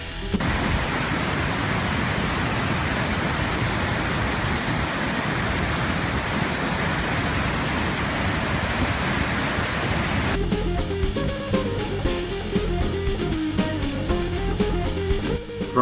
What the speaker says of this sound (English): Our next stop, the Gullfoss Waterfall.